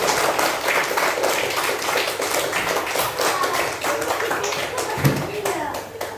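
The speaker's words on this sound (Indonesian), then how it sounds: "kasih tepuk tangan untuk kelompok 1" A class of students claps for a group in a teaching practice lesson, a fairly loud run of quick, uneven claps from many hands with children's voices chattering underneath.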